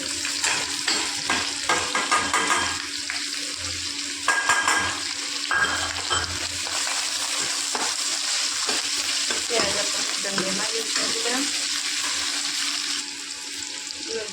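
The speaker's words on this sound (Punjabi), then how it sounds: "ਪਹਿਲਾਂ ਹੁਣ ਆਪਾਂ ਪਾ ਦਾਂਗੇ ਪਿਆਜ਼" Onions fry loudly in a pan, a dense continuous sizzle broken by repeated scraping and clattering strokes as they are stirred, close and without talk.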